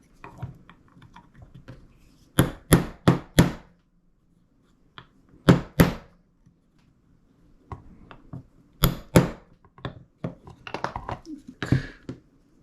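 Someone hammers parts of an airsoft magazine housing: sharp taps in small clusters of three or four, close and crisp, separated by quiet pauses and light handling clicks.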